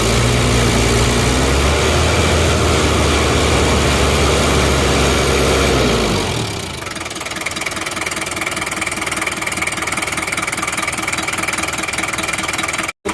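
A Daihatsu Rocky engine with no thermostat and black exhaust smoke rumbles steadily, heavy and loud, then shifts to a lighter, faster idle chatter about halfway through before cutting off abruptly.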